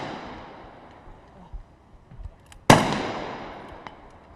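Gunshots fired during a SWAT shooting challenge at an international special forces competition in Dubai: faint scattered pops, then one sharp loud report around the midpoint with a decaying echo, and a later faint shot.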